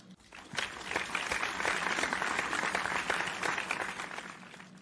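Applause fills an office, a steady patter of many hands clapping that swells quickly, holds for several seconds and eases off toward the end, fairly soft overall.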